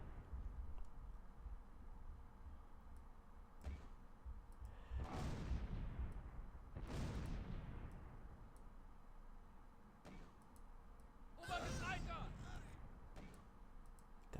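Mortar rounds land in the wartime tactical game Close Combat Last Stand Arnhem, several distant booming impacts spaced seconds apart over a quiet, faint background with a few small ticks.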